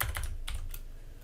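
A computer mouse clicks a few times in quick, sharp, close taps, alone with no talking.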